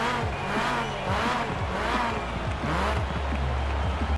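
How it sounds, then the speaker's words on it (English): Alpine A110 four-cylinder engine in Forza Horizon 4, loud and close, revving up and down repeatedly through quick gear changes over about four seconds with no talk. "do any of you guys know where this engine sound is from? It sounds Mazda MX-5-ish"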